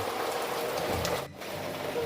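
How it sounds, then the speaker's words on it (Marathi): Steady patter of light rain, a soft continuous hiss falling on surfaces throughout. "बाहेर पाऊस पण थोडा कमी आला आहे बारीक बारीक पडतोय"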